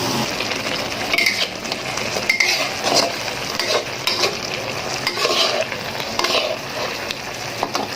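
Pumpkin is stir-fried in a pan, a steady sizzle with repeated scraping and clinking of a utensil against the metal, close up, with no talking.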